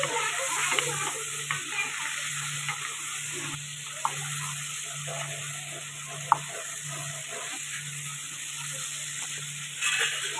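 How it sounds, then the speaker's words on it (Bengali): Shrimp frying in a pan with turmeric, a steady oily sizzle with light stirring scrapes and a couple of sharp clicks throughout, close and continuous with no talking. "চিংড়িগুলোকে বেশি ভাজলে হবে না, একটু লাল লাল করে ভেজে নেব।"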